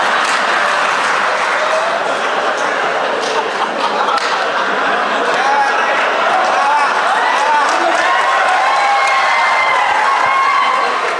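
An audience at a Marathi poetry recitation breaks into loud, sustained applause, a dense wash of clapping from a crowd that carries on steadily throughout with faint cheers mixed in.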